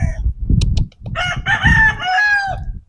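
Roosters crow loudly and close at a gamefowl farm, one long drawn-out call standing out over overlapping clucks and other crowing birds.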